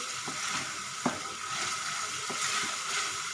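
Tadka of oil with asafoetida sizzles steadily while lobia (black-eyed pea) dal is cooked, a continuous bright frying hiss with a few soft clicks and stirring touches, close and moderately loud.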